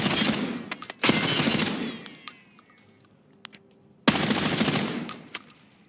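Bursts of automatic gunfire in Escape from Tarkov: a long rapid volley, a pause with faint clinks and a single shot, then another sustained volley, loud and close.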